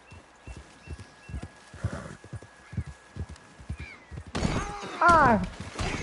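A horse in Red Dead Redemption 2 gallops with rapid, close hoof thuds, then gives a sharp, loud whinny near the end, while someone talks over it.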